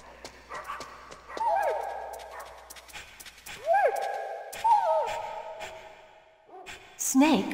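Dogs bark and yelp in short, sharp bursts in Metal Gear Solid on the Sony PlayStation, mixed with other game effects and clattering footsteps, fairly close and loud.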